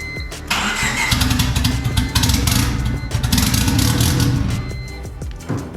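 A car engine, just fitted with a replacement ECU, cranks and catches, then runs roughly at a loud, close idle for several seconds before faltering and dying out.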